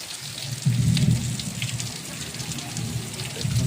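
Heavy rain pours steadily on surfaces in a village during the monsoon, with low rumbles of thunder rolling beneath the constant hiss throughout.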